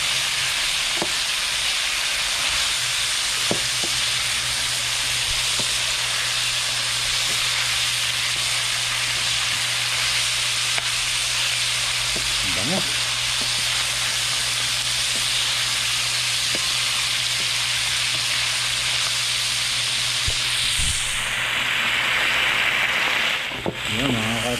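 Wild dove meat sizzling in hot oil in a pan, a steady loud frying hiss that runs the whole time with occasional stirring clatter, while someone talks over it.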